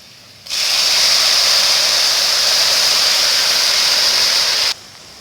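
Chickpea cooking water poured into a hot pan of frying masala with cumin and coriander powder, bursting into a loud steady sizzling hiss that lasts about four seconds and then cuts off sharply.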